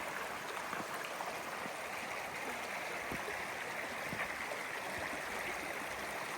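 Continuous babbling stream, water rushing steadily over rocks at close range with a constant broadband wash and no voices.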